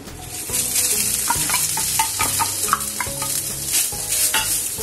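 Grated coconut fries in a spoonful of ghee for a Maharashtrian ukadiche modak filling. It makes a continuous close sizzle with stirring scrapes throughout, over a faint melodic backdrop.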